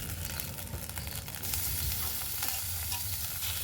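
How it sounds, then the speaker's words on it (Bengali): Freshwater snails tipped into a hot frying pan with ginger and cumin hiss and sizzle steadily, with scraping stirs and clinks of the utensil, close and fairly quiet, no voices. "এবার দিয়ে দেব গেঁড়িটা, দেখুন ধুয়ে পরিষ্কার করে রেখেছিলাম গেঁড়ি।"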